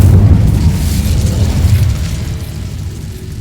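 An Incendio fire spell bursts in Hogwarts Legacy, a loud, deep whooshing boom that rumbles and fades gradually over a few seconds.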